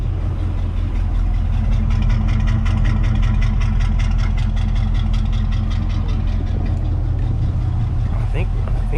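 A Chevy small block V8 idles steadily close by after a bent pushrod was replaced, giving a deep, even rumble with a rhythmic exhaust pulse throughout, while someone talks over it.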